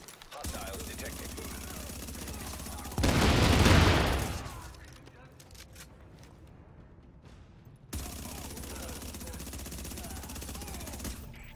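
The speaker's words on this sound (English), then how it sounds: "The escort party's taking heavy fire from the roof." Automatic gunfire rattles in The Division during a rooftop firefight at Madison Field Hospital, with a loud burst midway over a constant game soundscape, and a voice speaking over the action.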